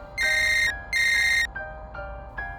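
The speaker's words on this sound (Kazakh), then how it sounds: "Бір кезде телефоным шырылдады." A telephone rings with an electronic ringtone: two long, bright, buzzing tones, then several shorter, softer chirps, all close and clear with no voices.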